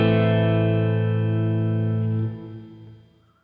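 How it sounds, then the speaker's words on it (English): A sustained distorted electric guitar chord, recorded in Logic Pro, rings out loudly with reverb, holding steady before decaying and fading away. "So if we want some more distortion, we can bring up the gain."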